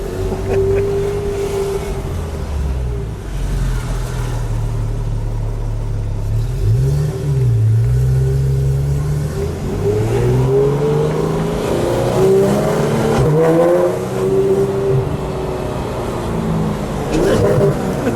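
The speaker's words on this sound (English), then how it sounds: "And then we've got the exhaust open. The exhaust is open." A 2016 Porsche GT3 RS engine revs and roars through an open exhaust, pitch rising and falling with throttle blips, loud and close, with a voice talking over it.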